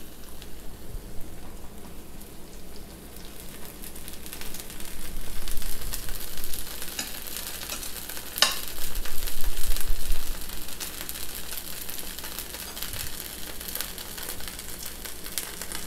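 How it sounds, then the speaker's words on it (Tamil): Rava dosa sizzles in oil on a pan, a steady, soft crackling hiss with slight swells. It is close and fairly quiet, with no talk. "இப்போ இதை நல்லா வேக விட்டுறலாம்."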